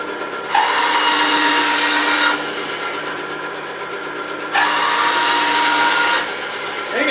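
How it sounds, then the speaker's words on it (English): Bandsaw trimming wooden flute end caps to size, two sustained loud cutting passes with a bright, hissing whine over the machine's steady running hum. "Now we'll trim those to size on the bandsaw so we can get ready to measure them."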